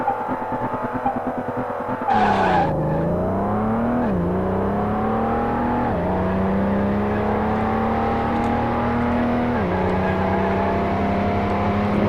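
A Lamborghini with over 1000 hp accelerates hard at high speed, its loud engine note climbing steadily through the gears with brief dips at each shift, close and continuous with no talk.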